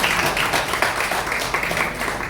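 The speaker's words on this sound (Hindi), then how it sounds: "तो एक बार अपने लिए ताली बजाओ पहले" An audience of mostly older people at a gathering claps for themselves in a steady, dense patter of many hands, moderately loud, lasting the whole stretch with no clear pauses.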